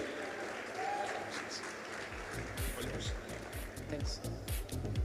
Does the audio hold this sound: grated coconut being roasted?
no